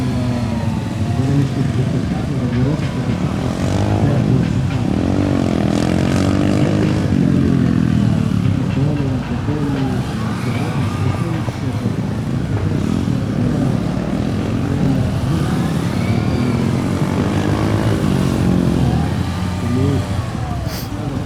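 A Yamaha FZ6 motorcycle engine revs and surges as the bike accelerates and turns through a gymkhana course at a timed competition, loud and continuous for the whole stretch, with an announcer talking over it.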